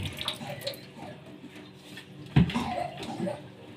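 Fish rinsed one piece at a time under a gentle stream of running water, soft splashing and trickling with a brief louder splash midway, close and fairly quiet.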